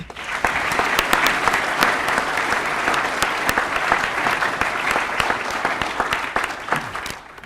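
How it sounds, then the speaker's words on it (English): A ceremony audience applauds the musicians at a spring honor society event, a full, strong wash of clapping with sharp individual claps standing out, sustained throughout. "about another round of applause for our musicians?"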